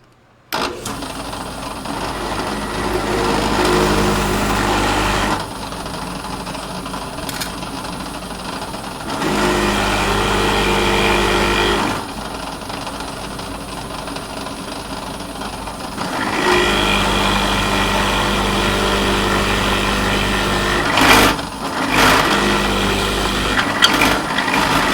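A Forstner bit bores a row of overlapping holes into a Squier Jazz Bass body for a battery box rout. A loud drill whines steadily in several long bursts separated by short pauses.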